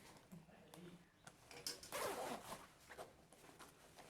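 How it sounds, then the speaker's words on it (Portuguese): Someone pulls open the zipper of a handmade sewn fabric bag in one quick, raspy run near the microphone. Faint handling noises come before and after it, and a voice is heard quietly in the background. "você vai abrir o seu zíper."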